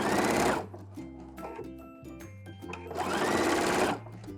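A home sewing machine stitches bias tape onto a shift dress in two loud, close whirring bursts separated by a short quieter pause, with no voices.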